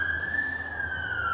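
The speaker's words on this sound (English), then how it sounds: "And another siren!" An emergency vehicle siren wails outside on a hot day in Vancouver, a steady, slowly falling tone heard through walls at moderate distance, with no talk.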